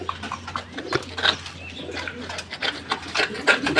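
Fancy pigeons at a pigeon farm cooing softly and continuously, with rustling and scraping in the coops and a steady low hum underneath.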